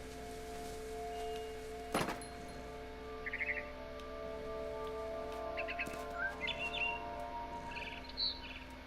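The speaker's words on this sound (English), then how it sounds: "It was a barn swallow going back to her nest." Game audio of a frightened barn swallow near its nest, with a few short, bright chirps and twittering bursts scattered over a steady tonal music bed, plus one soft thunk early on.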